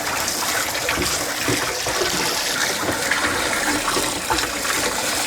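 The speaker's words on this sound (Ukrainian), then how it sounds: "потім ще включу змішувач, хай трактор хвилин там 5-10 постоє. Це все порозмішує." A tractor sprayer tank mixer, on a Scout 404C tractor, churns fertilizer solution with a steady, loud, gushing rush of liquid that continues unbroken throughout, with no voices.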